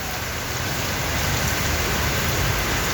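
Steady heavy rainfall in Phnom Penh, Cambodia, next to a food shop, a loud, even roar of drops hitting surfaces with no voices over it.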